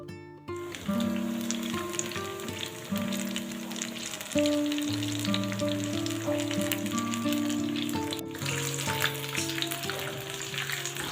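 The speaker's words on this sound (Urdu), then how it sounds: "اسی طرح سارے پیسوں کو فرائی کر لیں. ہلکی آنچ پہ کریں." Chicken wing pieces frying in a pan over low heat, a steady close sizzle and crackle with a few scraping stir sounds and a brief gap midway, without voices.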